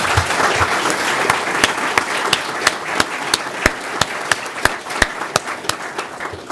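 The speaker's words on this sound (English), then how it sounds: "So let's recognize them, please, with a round of applause." An audience at a career signing day ceremony applauds loudly and steadily, a dense wash of clapping with a few sharp individual claps standing out near the microphone.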